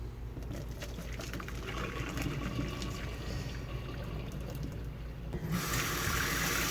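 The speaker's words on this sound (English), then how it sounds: "Add some cold water so that they cool down a little bit and I can actually touch them." Cold tap water running over freshly cooked beets in a kitchen, a steady close splashing stream that grows brighter and louder near the end, with no talk.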